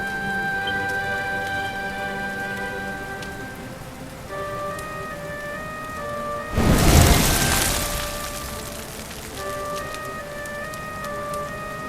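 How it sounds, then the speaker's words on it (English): Rain falls in the video game Dragon Quest XI as a steady hiss beneath sustained orchestral music, with a loud rumbling burst swelling midway before the downpour settles back. "Looks like the rain's dying down."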